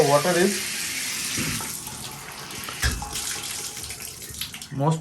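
Water trickles from a faulty bathtub spout whose diverter isn't working properly, a soft steady running hiss that continues under a man's speech and bathroom room noise.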